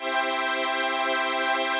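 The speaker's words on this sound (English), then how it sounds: "So we better turn that analog modulation back on." A sustained chord plays on a classic 1970s string synthesizer with its analog modulation engaged, giving a bright, dense tone with a gentle wavering shimmer throughout and no speech.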